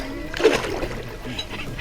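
Someone going into the water for a swim in Oman makes a short, close splash, then quiet water sloshes under faint voices.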